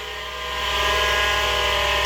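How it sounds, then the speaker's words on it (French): A circular saw runs at a training workshop where apprentices learn to cut wood for benches, a steady loud whine that rises slightly in pitch and holds, with no clear talking. "Là, on les apprend comment couper avec cette scie"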